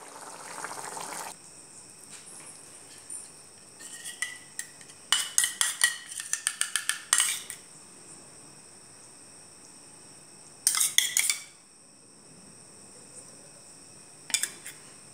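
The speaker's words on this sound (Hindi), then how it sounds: "ये दूध का फ्रेश मलाई है, इसको ऐसे फेंट लेंगे" Fresh milk cream gets whisked in a bowl for malai kofta curry, heard as quick bursts of rapid metallic tapping and scraping against the bowl, separated by quiet pauses, fairly close with no talking.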